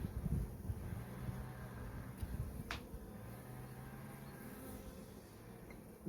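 Honey bees buzzing around an opened hive during an inspection of colonies for stores and brood, a steady low droning swarm with a brief higher buzz passing close, outdoors with light wind.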